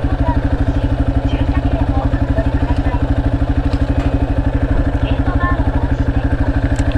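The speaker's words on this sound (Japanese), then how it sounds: "今からね、駐輪場にバイクを入れます" A motorcycle engine idles close by with a steady, fast throbbing pulse as the bike is moved into a bicycle parking area near Yonago Station, its rhythm even and unbroken throughout.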